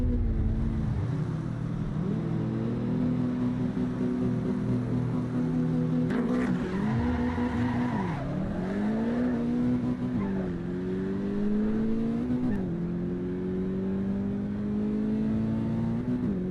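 A car engine in the Assetto Corsa EVO racing game drones steadily, rising and falling in pitch as it revs and shifts, with occasional tire squeal; loud and continuous with no talk.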